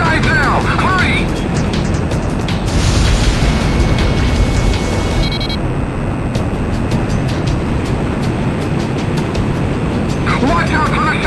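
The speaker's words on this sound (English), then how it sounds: "They're going to fire the shot cannon?" Shot cannon firing in the Ace Combat X flight combat video game, a loud rumbling blast and roar swelling over continuous jet engine noise, with voices speaking over it.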